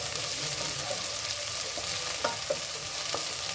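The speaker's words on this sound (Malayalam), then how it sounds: "ഒരു വലിയ ഉള്ളിയും ഒരു ഇടത്തര ഉള്ളിയും കട്ട് ചെയ്തിട്ട് അതിലിട്ട് വഴിക്കാൻ" Chopped onions, one large and one medium, sauté in a pan for upma, with a steady close sizzle and scattered stirring scrapes throughout, no voices.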